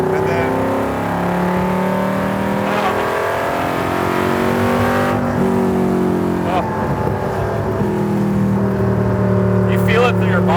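Superformance MkIII Cobra R with a 5.2 Aluminator engine revving loudly and steadily, rising and falling through high RPM close to the microphone, with people talking over the engine.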